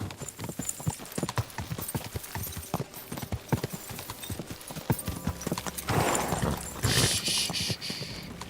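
Horse hooves clip-clopping in a video game, a quick regular run of hard hoof knocks close up, with a louder burst of whinny-like noise near the end, no talk.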